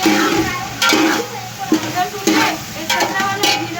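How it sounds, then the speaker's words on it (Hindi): Half a kilo of potatoes fry in a pan for a chicken and vegetable pulao, with a loud close sizzle and repeated bursts of spoon scraping and stirring. "आधा किलो हम आलू ले लेंगे, इन्हें भी भून लेंगे।"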